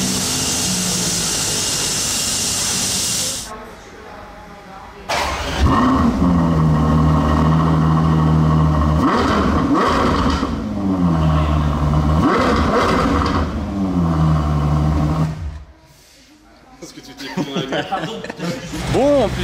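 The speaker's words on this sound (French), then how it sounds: "On entend toujours le V12 sonner quand même." A Ferrari 12 Cilindri V12 fires up and revs several times, with loud rising and falling engine sweeps, a brief drop to near quiet, then more revving close by.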